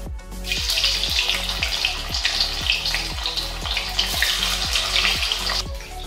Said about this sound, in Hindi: जब तक मेरा पनीर फ्राई हो रहा है